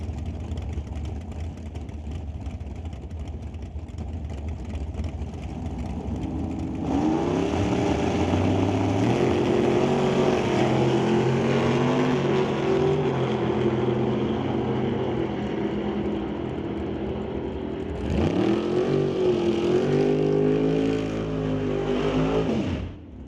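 Drag racing cars, including the Evil Bucket Chevy Roadster and a Monte Carlo, roar loudly at an NHRA Summit ET Series race, with steady engine drone building into a harder revving surge partway through, then a second burst near the end.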